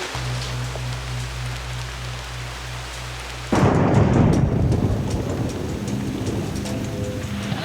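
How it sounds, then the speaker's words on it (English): Very heavy tropical island downpour, a dense roaring wash of rain hammering close by that suddenly intensifies partway through and stays loud to the end, with no talk. "This rain is absolutely unbelievable."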